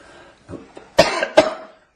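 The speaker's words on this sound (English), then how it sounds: "I've got a cough." A man coughs a few times in quick succession, close and fairly loud, short harsh bursts after a softer throat sound.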